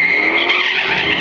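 The White Zombie electric drag racing car launches at the drag strip, giving a short, loud, steady tire squeal and whine that holds for about a second without a break.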